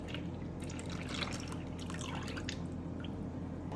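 Sweetened condensed milk drips and trickles from a can into a bowl as a faint, steady run of soft liquid plops and drips in a quiet kitchen.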